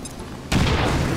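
A grenade blast in XCOM hits abruptly midway, a loud close boom that swells into a broad rumbling wash after a quieter stretch.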